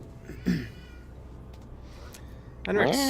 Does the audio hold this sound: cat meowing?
yes